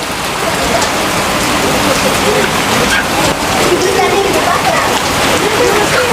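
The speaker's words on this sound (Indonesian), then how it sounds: "Hujan lebat sekali." Heavy rain pouring down steadily at an outdoor family baptism gathering beside a mosque, a loud, dense, continuous hiss with faint voices under it.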